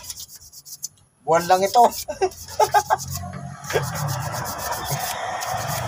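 Sandpaper rubbing a brake part, a repeated rasping scrape up close, while people talk over the work.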